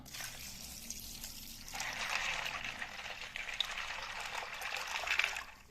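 Water pours over soaking fava beans in a home kitchen, a soft, steady gushing trickle that grows fuller partway through and continues to the end.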